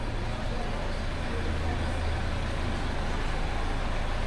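A work truck sits in a narrow city-centre street in Sitges, its steady low engine rumble running throughout amid constant street and traffic noise.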